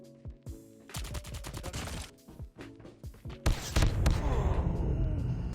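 Rapid gunfire bursts from Call of Duty Mobile, loud, near and punchy, with quick runs of shots broken by short pauses and a denser, rolling stretch of fire and impacts toward the end.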